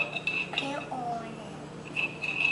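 Eggs are stirred in a bowl, with light, irregular clinks and scrapes of a utensil against the dish and soft voices faintly in the background.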